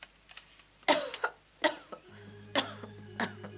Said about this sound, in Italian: La tosse continua a peggiorare.